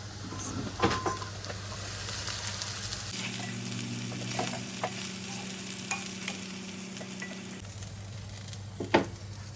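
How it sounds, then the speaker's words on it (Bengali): Leafy greens tossed into fried spices sizzle and hiss steadily as they are stirred in the pan, with occasional scraping clinks and no talking. "এখন এর মধ্যে আমি শাকগুলো ঢেলে দিব"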